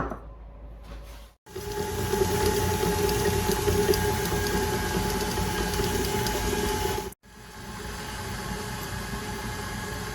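A handheld mixer beats butter and sugar together, a steady whirring motor drone that runs continuously and briefly cuts out twice.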